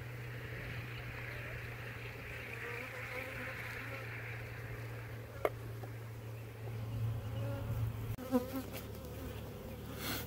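Honey bees buzz in a steady, close drone at an open hive being readied for queen grafting. Faint handling clicks and rustles sound near the end.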